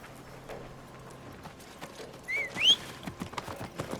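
A horse's hooves in Assassin's Creed Mirage beat in a steady, moderately close rhythm, joined midway by a brief high whistling call, with no talking.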